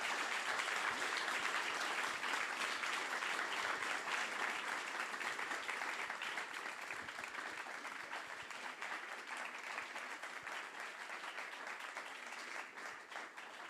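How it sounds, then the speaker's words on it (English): An audience at a book premiere gives sustained applause, a dense wash of clapping that holds steady for a long stretch and eases slightly toward the end. "Big round of applause to you"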